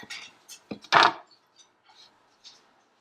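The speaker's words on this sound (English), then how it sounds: "You can hear the crunch." Someone bites into hot, crisp-crusted belly meat cooked for a carnivore diet. It gives a few close, sharp crunches, with one loud crackling bite near the start, then quieter chewing clicks against near silence.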